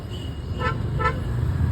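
Two short car horn toots sound on a busy road over a steady low rumble of traffic, the beeps fairly close and clear.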